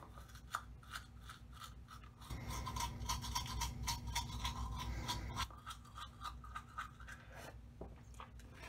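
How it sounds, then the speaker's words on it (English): Close, scratchy scrubbing of a toothbrush brushing teeth in quick rhythmic strokes, growing louder and denser in the middle before easing back, with no talk. "After I've gotten every surface on the front sides of my teeth, I'm going to clean the surface facing my tongue and my palate."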